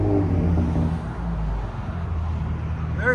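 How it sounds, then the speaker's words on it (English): A 3.5L V6 fitted with an aftermarket muffler idles steadily and close by, a low even rumble that holds throughout with no revving and no one talking. "Here it is on idle."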